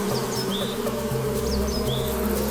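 Dense, continuous buzzing of many honeybees vibrating their flight muscles in a heat ball around a hornet, a loud, steady vibrating drone with faint high chirps drifting over it.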